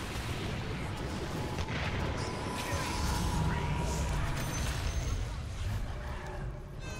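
Sniper rifle gunfire in a video game: dense, continuous booming gunfire and clatter fill the clip at moderate level, with faint talking underneath.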